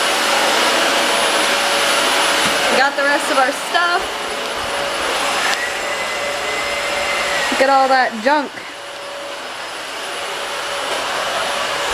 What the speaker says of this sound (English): Officially using the vacuum cleaner for the first time.